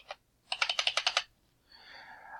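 Computer keyboard arrow keys are pressed during an Adobe Illustrator session: one tap, then a quick run of about seven evenly spaced clicks, close and crisp, followed by a soft hiss.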